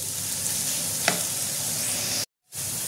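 Green chilli pieces sizzling in a pan at home, a continuous hiss with one stirring scrape, then a sudden brief cut to silence near the end.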